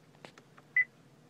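A short, clear electronic beep from the voice command system of a 2013 Honda Pilot sounds once, preceded by faint clicks in an otherwise quiet cabin.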